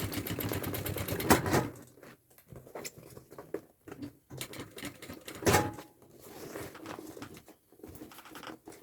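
A sewing machine runs in several bursts, stitching over a previous seam on a double-compartment thermal backpack, with short pauses between runs; close and moderately loud.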